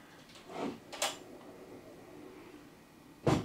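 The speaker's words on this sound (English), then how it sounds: "Go ahead, close the door." A door closes inside a tiny house: a soft scrape and a short knock come early, then after a quiet stretch a firmer thud marks the door shutting, heard close by with no talking.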